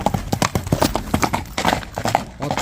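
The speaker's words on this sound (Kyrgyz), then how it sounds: "Чабылып жүргөн ат." A galloping horse being readied for kok-boru goat-pulling games beats out a steady, fairly close clip-clop of hooves, with a rapid, even rhythm of sharp knocks that carries on throughout, and faint voices sound in the background.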